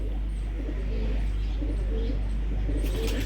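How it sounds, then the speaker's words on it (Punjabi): Lakha pigeons of old breeds coo softly and repeatedly in a loft, the low murmuring calls carrying over a steady background hum with a few faint chirps and no talking. "ਕਮਾਲ ਕਬੂਤਰ ਨੇ ਮਾਸ਼ਾਅੱਲਾ।"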